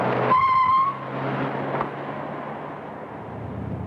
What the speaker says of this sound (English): she brakes hard to stop the car short